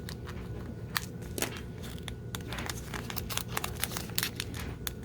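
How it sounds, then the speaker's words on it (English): Small cuticle scissors snip a nail polish strip in a series of sharp, quiet clicks and crinkles at irregular intervals, close up and faint, with no talk. "I just used the little cuticle scissors."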